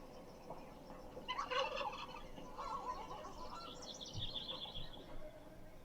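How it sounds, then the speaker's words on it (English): Chickens wandering into an office give faint clucking and gobbling calls against steady background hiss, with a few light knocks and shuffles nearby. "Hang on, the chickens just got in my office."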